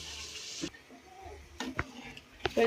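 Cardamom, ginger and spices sautéed in a pot, with soft sizzling under a few sharp spoon scrapes and clinks against the metal, close and moderately loud.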